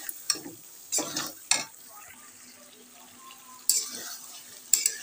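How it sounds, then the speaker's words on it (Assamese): Chicken meat fries in a pan for a village-style curry, a faint steady sizzle punctuated by several sharp scraping strokes of a spoon stirring against the pan. "মাংসটো অকণমান আৰু ভাজি ল'ম"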